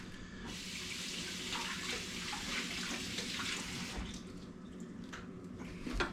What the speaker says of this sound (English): I'm going to give this board knife a quick rinse